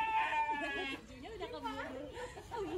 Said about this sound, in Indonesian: Wow, ini ternyata adalah domba teman-teman.